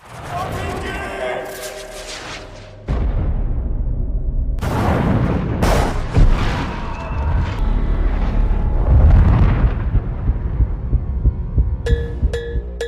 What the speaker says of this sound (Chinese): 猛烈的爆炸让男人的队友全部丧生